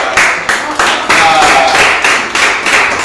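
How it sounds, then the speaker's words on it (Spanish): A small group in a room claps in quick, rhythmic bursts of applause, close and loud, with brief pauses between volleys. "Un aplauso, por favor."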